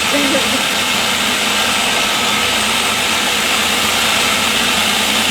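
A food processor blends cranberry pesto with a loud, steady whirring roar that holds unbroken and close throughout.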